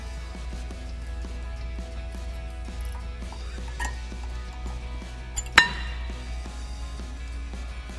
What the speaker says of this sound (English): once you've got the lubrication on your pads, then you go ahead and slide them into the anti-rattle clips